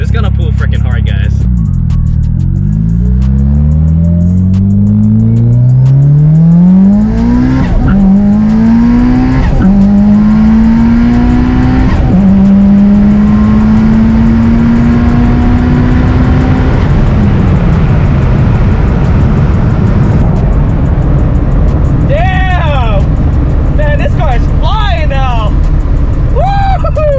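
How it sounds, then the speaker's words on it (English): A Mitsubishi Evo 8 with an AGT 62mm turbo and stock block accelerates hard, engine pitch climbing through several gear changes with brief breaks between pulls, loud and close, then settling; faint voices appear near the end. "I'm gonna go ahead and rip the car first through 4th gear and see how she really feels."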